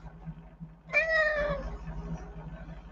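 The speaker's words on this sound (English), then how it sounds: "does anybody want to say hi to the little kitty?" A small kitty gives one clear, fairly loud meow lasting about half a second, followed by fainter low room noise.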